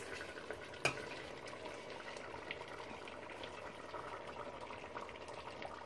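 Onion sizzles in ghee (smen) in a pan while chicken is being prepared for small pastillas, a soft, steady hiss and crackle with one brief sharper tap near the start.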